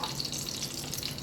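Desi ghee and butter sizzle in a pan for tempering pav bhaji, giving a steady, soft hiss of bubbling fat, close by and without voices.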